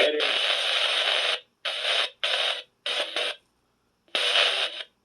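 Spirit box radio sweeping through stations, bursts of harsh hissing static that cut on and off in choppy segments over a few seconds, close and fairly loud, with no clear talking.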